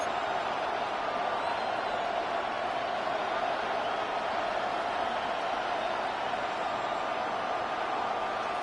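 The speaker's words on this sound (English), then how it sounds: "The crowd making their presence felt." Steady stadium crowd roar from an EA Sports NFL video game, a dense, continuous wash of noise that holds at an even level throughout with no distinct voices.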